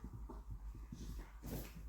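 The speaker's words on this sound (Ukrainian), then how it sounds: "Радості в собаки страшне." An excited, happy dog whimpers and whines in short bursts close by, with soft rustling and movement around it.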